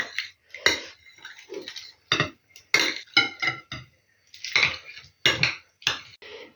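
A spoon clinks against a bowl while stirring in gelatin for a jelly cake, in a string of sharp, bright taps and scrapes, close and uneven, with short pauses between strikes.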